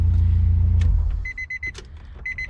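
A Honda Civic wagon with a swapped K20 engine idles with a low, steady rumble that cuts off partway through, leaving a quiet space with repeated short electronic chimes and small clicks.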